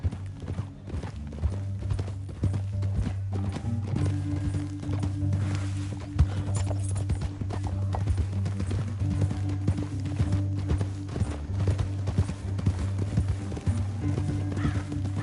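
Hooves pound rapidly and continuously as horses gallop in the video game Red Dead Redemption 2, with a low steady rumble underneath and occasional faint voices in the mix.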